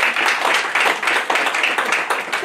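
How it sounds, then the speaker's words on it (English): A church congregation claps together for Jesus during a testimony service, a dense, steady patter of many hands filling the space throughout. "Can we clap for Master Jesus?"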